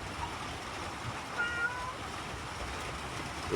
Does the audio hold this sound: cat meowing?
yes